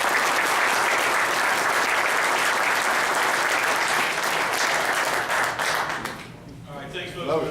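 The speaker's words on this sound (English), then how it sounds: "Let's get a round of applause for our panel." An audience at a veterans employment summit applauds a panel, dense sustained clapping filling the room for several seconds before thinning out, with a voice speaking over the tail end.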